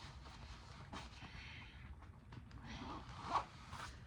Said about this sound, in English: So I'm gonna zipper this up.